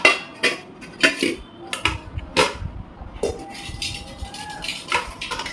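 Metal cooking pots being handled and knocked together, several sharp clanks and clinks at an uneven rhythm, close and fairly loud, with no talking.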